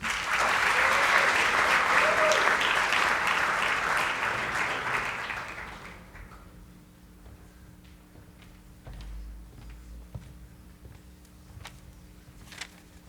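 An audience applauds to welcome speaker Martin Cox at a morning meeting, a dense, steady clatter of many hands that swells for about five seconds, then fades away, leaving a quiet room with a few faint knocks and shuffles.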